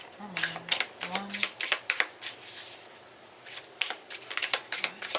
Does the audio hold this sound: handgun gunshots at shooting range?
no